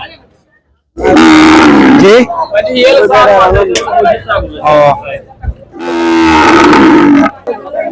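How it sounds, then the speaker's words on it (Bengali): Two long, loud cow moos, one at the start and one near the end, with shuffling and other noise in between at a cattle and buffalo market. "কি সাসার গরুদের ডাকাডাকি করতেছে খালি"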